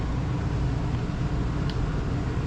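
A slide-out motor on a 2023 Dutchmen Astoria 1500 Series 2533RDF RV runs on battery and shore power, giving a steady, low mechanical hum with no breaks, heard alone.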